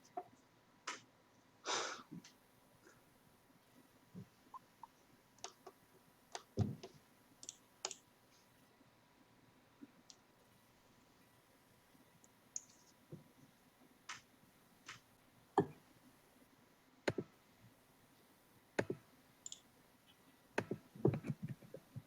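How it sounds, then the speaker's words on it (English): Sparse keyboard typing during an online group call, with short irregular clicks and small bursts of keystrokes spread over about twenty seconds, faint and fairly close, with no talk. "Shane's typing something."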